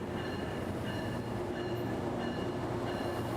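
Tri-Rail commuter train at Lake Worth Beach station in Palm Beach County, a steady loud rumble of rolling railcars with faint periodic wheel clatter, continuous and close, with no talk.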